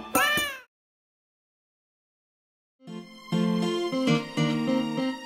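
Cartoon kittens give a brief, bright meow, then there is a silent pause, followed by a sung melody with music that carries on to the end.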